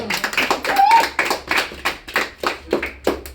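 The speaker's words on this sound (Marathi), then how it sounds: "एकदा अजून टाळ्या वाजवून अभिनंदन करा" Several rounds of hand clapping from a small group at a home birthday cake-cutting gathering, close and fairly loud, in uneven bursts across a few seconds with some voices underneath.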